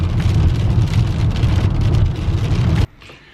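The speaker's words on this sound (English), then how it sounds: "Look, it's raining." Steady, dense rain pours down on a sunny day in Arizona, a loud continuous hiss and patter that cuts off abruptly near the end, leaving only faint quiet.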